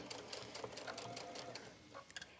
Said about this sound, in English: Do a couple stitches to make sure everything looks good. I'm going to do a couple back stitches.